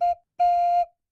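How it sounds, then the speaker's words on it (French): Two clear whistle blasts from a whistle Léo blows, a very brief first toot followed after a short gap by a longer, steady second one, loud and close with no voices. "Puis, Léo siffla 2 coups brefs."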